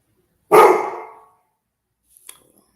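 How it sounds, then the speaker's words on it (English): A single close, loud dog bark rings out and fades, followed by a faint, brief sharp click a moment later, with no voices heard. "You gotta have a bark."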